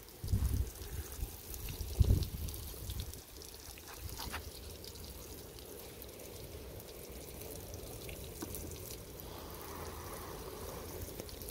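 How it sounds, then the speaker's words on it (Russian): Fertilizer solution with potassium poured onto tomato plants, a soft steady trickle of liquid running into soil for about ten seconds, louder splashing bursts near the start, no one speaking. "Вот так пролил томаты удобрением."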